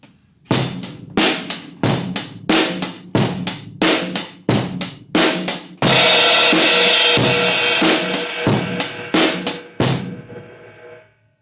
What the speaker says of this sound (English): you have a crash cymbal and it would sound like this